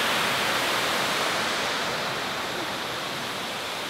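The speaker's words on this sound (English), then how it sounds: "This is the first waterfall that we've seen that's actually been flowing like this." A flowing waterfall gives a steady, dense roar of rushing water, loud and continuous with no breaks or voices.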